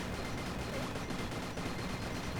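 Explosions and gunfire-like bursts in the video game Talented merge into a dense, continuous roaring barrage that stays loud throughout, with no voices.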